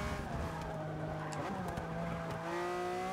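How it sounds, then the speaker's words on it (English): A racing car in Forza 6 holds a steady, tonal engine drone with whining harmonics that rise and shift gently as it runs, continuous and fairly close with no talk. "this car sounds so fucking beautiful"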